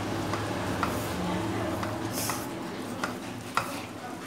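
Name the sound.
stirring semolina and egg halwa with dry fruits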